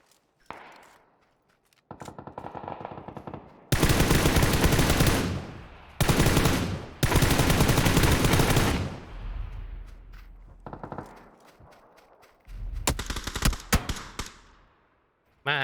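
Video game gunfire, long sustained bursts of automatic weapon fire alternating with short pauses, loud and close, ending in a final burst after a quieter stretch.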